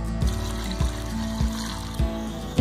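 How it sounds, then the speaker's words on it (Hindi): Water being poured into a pot of spices and cloves for beef shami kabab, a steady low gurgling rush with a soft rhythmic pulse about every half second, close up. "इसमें पानी शामिल कर दिया है मैंने"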